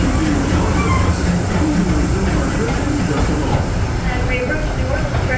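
Disneyland Railroad train rolling along with a steady, loud rumble and hiss, continuous throughout with no break in the rail noise.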